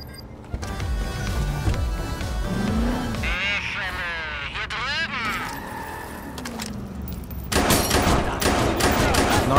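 Gunfire in the video game Watch Dogs 2 mixed with engine and car noise, with a louder burst near the end, while someone talks over much of it.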